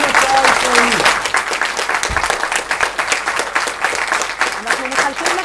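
Sustained audience applause at a Holocaust remembrance award ceremony, dense and steady clapping filling the room for several seconds, with a voice briefly heard over it.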